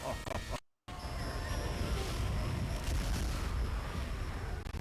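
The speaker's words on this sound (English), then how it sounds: "Oh, ye old archaic explosion." A loud explosion in The Vampire Diaries video game: a sharp cut, then a sustained heavy rumbling blast with crackling debris that fills the rest of the clip.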